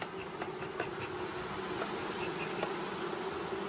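Honey bees swarm around an open hive during the 2022 honey harvest, giving a continuous faint buzzing hum with a few louder passes close by, with no voices.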